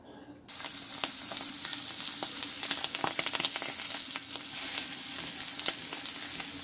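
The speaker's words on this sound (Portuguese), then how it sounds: "vou dar uma leve fritura nela com azeite nesse disco aqui" Olive oil fries on a plow disc, starting abruptly after a quiet moment and then crackling and spitting steadily, with frequent sharp pops over a continuous sizzle.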